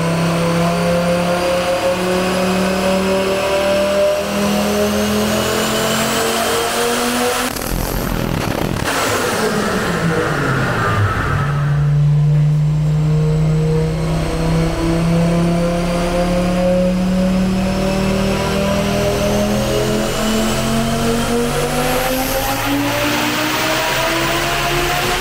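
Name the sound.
Audi S2 Coupé five-cylinder engine revving on a dynamometer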